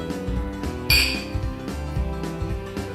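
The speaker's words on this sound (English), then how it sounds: "Will you booze hound stop that infernal clinking?" Glasses clinking at a Burns Night gathering, a bright sharp chink near the one-second mark followed by softer knocks and taps, close and fairly loud over a low background hum.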